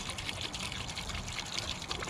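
Half a gallon of mineral spirits poured into the pump of a Graco striping machine, a steady soft trickle and splash of liquid running without pause.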